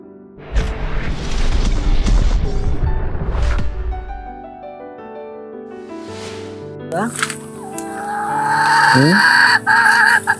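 Native chickens cluck and a rooster crows inside a farm shed in winter, with a burst of broadband rustling and clatter toward the end.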